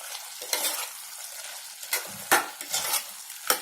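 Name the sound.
stirring pumpkin curry with coconut and coriander in pan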